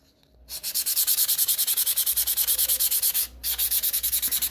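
Laser-cut pieces are sanded with sandpaper in fast, steady back-and-forth strokes, a loud rhythmic scratching that pauses briefly once before continuing, with no voices.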